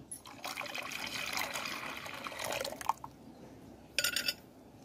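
Boiled and cooled milk is poured into a mixture for tender coconut and palm fruit payasam, a continuous close trickle lasting a few seconds, followed by a short second splash after a brief pause.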